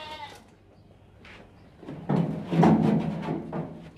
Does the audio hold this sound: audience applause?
no